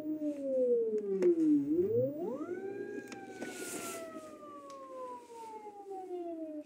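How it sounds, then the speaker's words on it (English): A Nissan Leaf electric motor driven by an eBike controller spins with a loud, continuous electric whine that dips in pitch, then climbs and slowly falls again, with no talking. "So anyway, the motor's working,"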